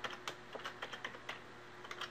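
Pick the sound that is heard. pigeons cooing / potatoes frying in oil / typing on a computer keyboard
typing on a computer keyboard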